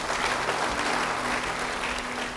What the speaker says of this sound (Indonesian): Yang percaya beri tepuk tangan bagi Tuhan.